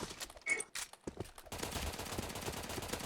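AUG rifle gunfire in a video game: a few separate shots, then continuous rapid automatic fire that dominates the second half at moderate loudness.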